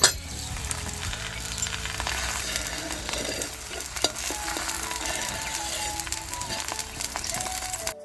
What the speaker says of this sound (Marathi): आता एक भाजून घेतला, दुसरं पण टाकून घेऊ